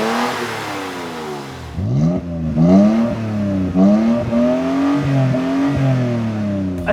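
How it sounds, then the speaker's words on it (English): A Toyota Tacoma with a 3.5L V6 and an MBRP Armor Plus single turn-down exhaust revs repeatedly from idle, each blip climbing into a loud, throaty roar before settling back, close and alone with no talk. "a great example of one is the MBRP Armor Plus single exhaust system with a turn down"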